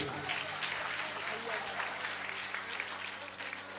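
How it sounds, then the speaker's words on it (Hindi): Devotional gathering audience applauding loudly during a Ram Katha religious discourse, dense sustained clapping filling the clip with some voices beneath. "एक बार जोरदार तालियां बजा दीजिए।"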